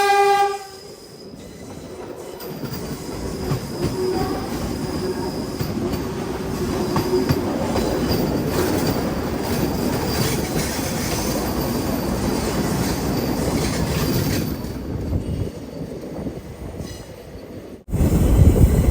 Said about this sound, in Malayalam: അതെത്തി, വന്ദേ ഭാരത് എത്തി.